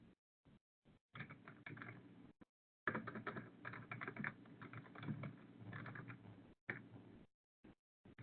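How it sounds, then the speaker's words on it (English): A Linux command typed on a computer keyboard, rapid bursts of close key clicks with short pauses between words, no talking. "So I'm going to type sort fruits"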